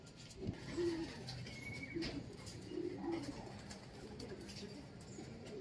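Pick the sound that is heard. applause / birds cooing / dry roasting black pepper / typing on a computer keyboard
birds cooing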